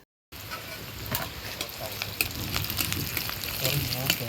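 Chatan frying in a pan in village Jharkhandi style after the dal tempering, a steady close sizzle with stirring scrapes after a brief silent start; a voice is faintly present.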